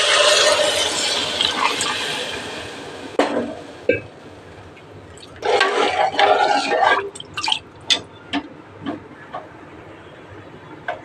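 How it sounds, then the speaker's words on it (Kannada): Water poured into a pan of frying rice for khara pongal, with bursts of splashing and sizzling, then scattered drips and small clinks, close and fairly loud. "ನೀರನ್ನು ಸೇರಿಸ್ತಾ ಇದ್ದೀನಿ."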